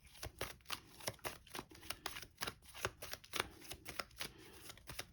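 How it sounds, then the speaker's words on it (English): A deck of cards for a solo zombie board game being riffle-shuffled and bridged up close, a steady run of crisp ripping flutters repeating about twice a second, quiet and without talk. "so we reshuffle"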